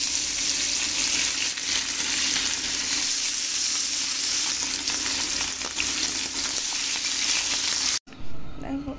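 Fish sizzles and spatters steadily in hot oil in a wok, a dense close frying hiss that runs unbroken until a brief cut near the end.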